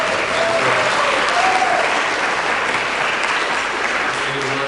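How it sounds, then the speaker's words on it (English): A large audience at a debate event applauds steadily, a dense wash of clapping that holds at a constant loudness throughout, with faint crowd murmur underneath. "Madison and Grace, can you please stand now so we can give you a round of applause"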